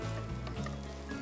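Julienned ginger and chopped green chilli fry in ghee with a soft, continuous, close sizzle, alone and quiet.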